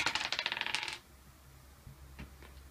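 Dice clattering during a Memoir '44 board game: a dense burst of rapid hard clicks and rattles for about a second, then quiet with a couple of faint soft knocks.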